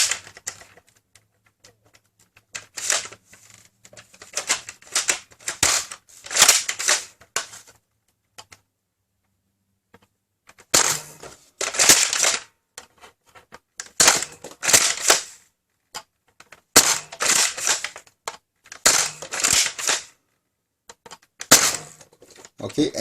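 An X-Shot Max Havoc toy foam dart blaster is fired in loud clustered bursts of sharp clacking shots, with gaps of quiet between volleys and a person talking briefly in between.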